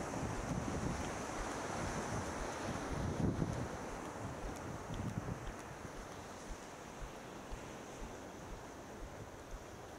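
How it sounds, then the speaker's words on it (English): Waves breaking on a beach at Fremantle, Western Australia, with a steady broadband wash of surf and wind buffeting the microphone, swelling slightly in the first seconds and continuing without speech. "I'll walk down on the beach so we can have the nice sound of waves for a few minutes"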